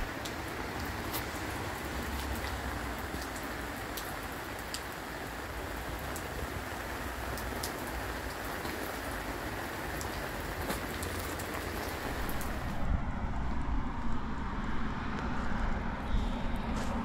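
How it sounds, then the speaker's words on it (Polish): Heavy rain falls steadily outside a tent, a dense, constant hiss with scattered drops pattering on the surface, which shifts to a duller tone near the end. "I tak jak widzicie, mocno pada."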